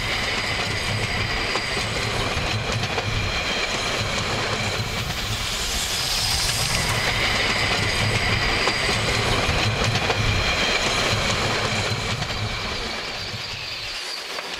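Selketalbahn narrow-gauge train in the Harz running on rails, a steady rumbling roll with faint clickety-clack and hiss, continuous and moderately loud throughout before easing slightly at the end.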